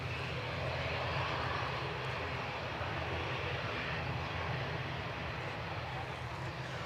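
A Boeing 757 on the Washington flight roars steadily at Edinburgh airport, a broad continuous engine rumble that holds its level throughout without fading, heard alone with no voices.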